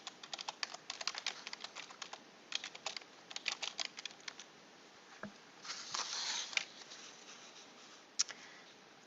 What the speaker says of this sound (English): I am just going to type the title into the search box.